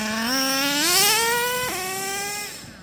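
A small engine revs up in rising whine, then drops sharply as a two-speed transmission shifts in, the pitch climbing again afterward; loud and close with no talk.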